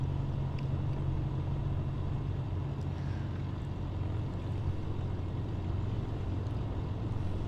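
Steady, fairly quiet engine drone of a Piper Turbo Arrow in the AeroFly FS2 flight simulator, holding a constant low hum without change for the whole stretch.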